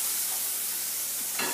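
Lemon and olive oil sizzle softly in a non-stick pan, a faint steady frying hiss with a short stir or splash near the end.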